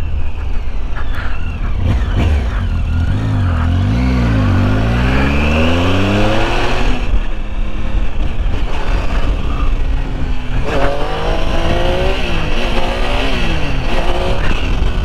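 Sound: Triumph Tiger 800 XC motorcycle engine revving

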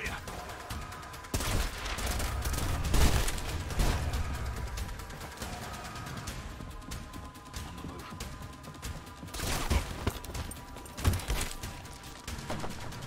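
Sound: light machine gun firing in the video game Trepang2

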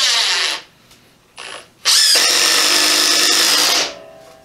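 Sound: Ryobi impact driver driving a screw at highest setting

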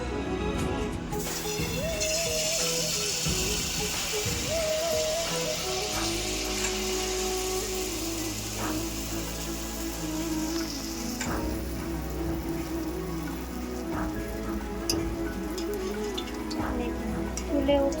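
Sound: palm malpua batter frying in hot oil in a kadai

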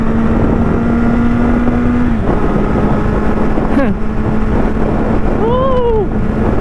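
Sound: Kawasaki Z800 motorcycle being ridden

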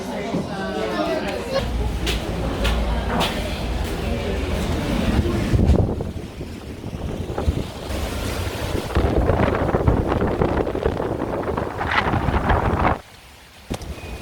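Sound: strong wind blowing on a third-floor Starbucks terrace during a typhoon, Boracay

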